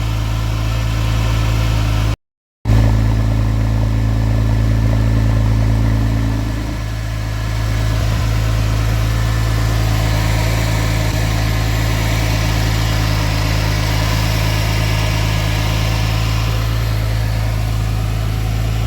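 A Porsche 911 Carrera 2S engine idles steadily with a deep, constant hum and faint vibration after an alternator replacement, running close and loud throughout with no voices.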